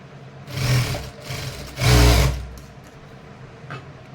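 Sewing machine running in two short stitching bursts while sewing a cross strip onto a frock's neck and sleeve, with a fainter run between and quiet handling afterward; no talk.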